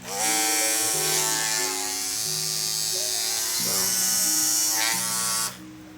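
Repaired Andis Supra ZR cordless hair clipper with cleaned motor carbon running, a loud steady close buzz with slight pitch wavering before it cuts off near the end.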